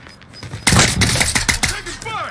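Call of Duty: Warzone gunfire: a sudden close burst of rapid shots erupts after a quiet start, followed by several more sharp cracks in quick succession that taper off.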